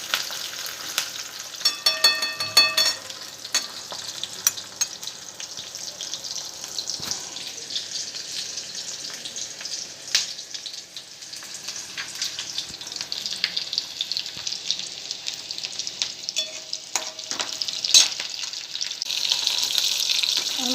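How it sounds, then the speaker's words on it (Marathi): Onion, garlic and grated coconut frying in oil in a pan, a steady close sizzle with light stirring, briefly joined by running tap water near the start, with no talking. "छान परतून घ्यायचे तेलामध्ये"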